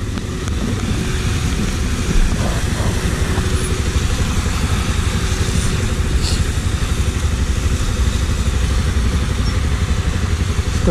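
A motorcycle engine idles close by, a loud, steady low rumble with a rapid regular pulse that holds evenly throughout, with no voices on top.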